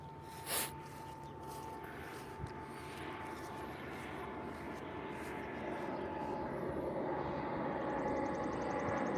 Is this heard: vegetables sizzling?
no